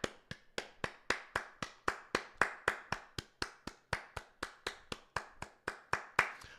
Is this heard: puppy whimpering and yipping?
no